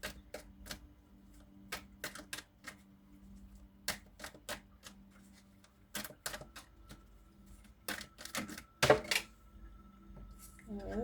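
Tarot cards are shuffled in quick bursts of crisp, papery clicks and flutters, stopping and starting repeatedly at close range in a quiet room.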